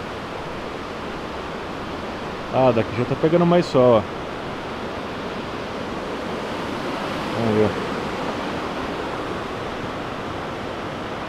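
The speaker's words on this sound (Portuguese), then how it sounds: "Vamos ver a cachoeira de frente agora," Waterfall at Cascada Los Alerces near Bariloche, Patagonia, a steady broadband rush of falling water filling the whole clip at moderate level, with brief speech over it partway through.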